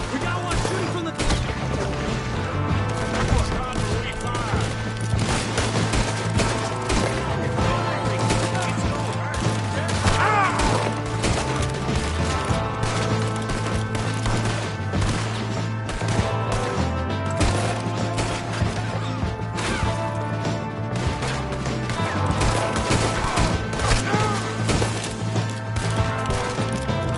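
Dense, continuous gunfire from a shootout in Red Dead Redemption 2, with rapid shots running under a steady soundtrack, while voices shout and call out through most of it.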